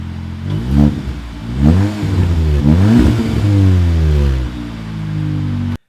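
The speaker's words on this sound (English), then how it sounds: "the quartet of tailpipes which make a pretty decent noise" A Cupra Ateca with sporty body kit and quad tailpipes revs hard, its engine note climbing and falling through several loud, close blips with a throaty exhaust rasp, no voices over it.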